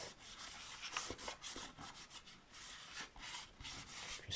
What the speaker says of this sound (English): just wipe it off.